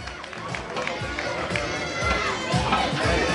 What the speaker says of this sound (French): je crois qu'on peut applaudir très très fort les coureurs de l'équipe Cofidis.